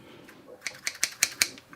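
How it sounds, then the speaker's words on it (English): Scissors snip through a sheet of homemade fruit leather in about five crisp, evenly spaced cuts, close by over a soft background hiss. "take your scissors,"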